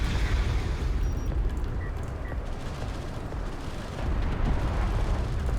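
Artillery fire in a real-time strategy game hitting friendly units: continuous rumbling barrage of booms and distant gunfire, steady and moderately loud, with a heavier surge toward the end.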